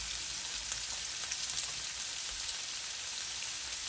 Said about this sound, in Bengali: চিংড়ি মাছটা ভালো করে ভেজে নেব।